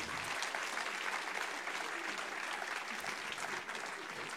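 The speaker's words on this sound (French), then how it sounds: "Donc on peut les applaudir encore" An audience claps steadily for a jury at a regional thesis-presentation final, a dense wash of applause that holds at an even level throughout.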